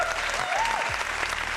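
A stream alert cheer effect: a short burst of crowd applause and cheering with a rising whistle-like tone, loud and dense over its brief length.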